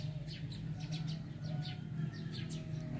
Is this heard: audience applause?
no